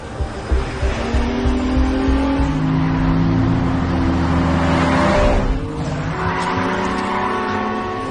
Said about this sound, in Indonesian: Dengan beberapa mobil sport, Sam membimbing mereka agar menggaspol mobilnya ke lokasi